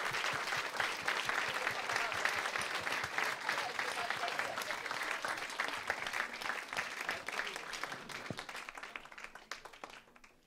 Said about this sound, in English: I think it's time to give a big round of applause